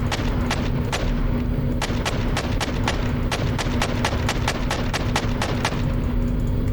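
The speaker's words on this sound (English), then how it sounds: "Ooh, yeah, something's blowing up." Rocket-attack explosions in a flight combat video game: a rapid series of sharp, booming blasts bursts out one after another over a steady, droning aircraft engine hum.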